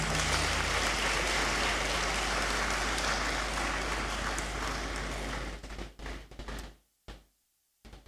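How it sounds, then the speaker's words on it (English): Dense applause fills a great hall at a university congregation ceremony, holding strong for several seconds before thinning into a few scattered claps and then quiet. "Let us give him another round of applause."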